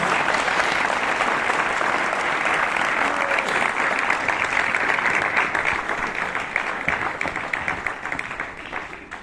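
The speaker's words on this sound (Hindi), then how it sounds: "ताली बजा दीजिए आप लोग, मोटिवेशन कीजिए आप" An audience applauds for staff at a defence academy gathering, steady dense clapping filling the room for about nine seconds and tapering slightly at the end.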